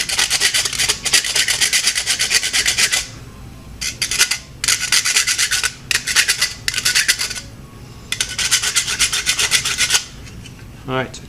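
A hand rasp files a chewed nylon wishbone dog chew bone smooth, making loud repeated scraping strokes in bursts with short pauses between, close up and without speech.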